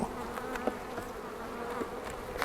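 Wild-caught bees buzz close by, a steady droning hum with individual insects swooping past and louder passes near the end, no voices.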